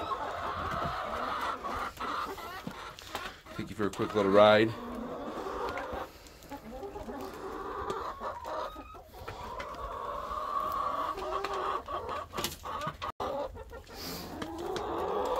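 Chickens cluck softly around a homemade bucket feeder built from a Lowe's bucket, their calls scattered under steady talking and background rustling, with one louder burst partway through.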